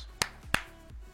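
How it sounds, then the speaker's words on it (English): Sharp, close hand claps, two loud distinct snaps about a third of a second apart with a fainter third hit after, isolated and crisp with no talk. "3 claps."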